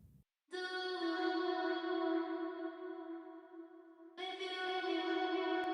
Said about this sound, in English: So this effect is actually just a quarter note delay.